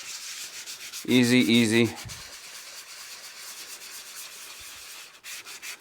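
A raw, unsanded surface being scuffed up by hand before resin goes on: a close, continuous rasping rub with strokes back and forth. A voice breaks in briefly near the start.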